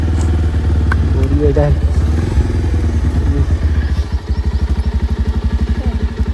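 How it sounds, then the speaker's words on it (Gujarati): A motorcycle engine runs throughout, its steady rhythmic thumping getting more pronounced toward the end, with people talking over it early on. "બાઈક તો ચાલુ થઈ ગયું"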